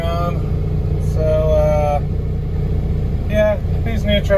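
A potato hauler farm truck's engine idles with a low, steady rumble throughout, heard from inside the cab while someone talks over it.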